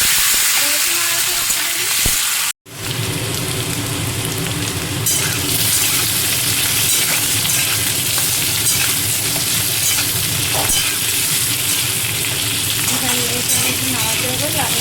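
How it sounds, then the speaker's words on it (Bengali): Cumin seeds temper in hot oil as diced potatoes fry in a pan, making a loud, constant close sizzle and crackle with stirring scrapes and a short silent break early on. "দেখো, একটু সাদা জিরা একটু ফোড়ন দিয়ে দিলাম।"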